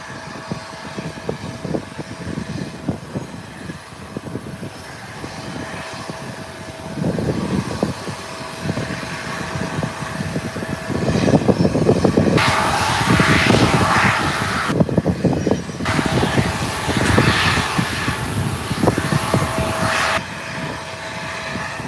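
Aircraft engines wind down at the gate, a loud, broad roar with a thin whine on top. The sound swells and eases in uneven surges, heard from nearby on the apron.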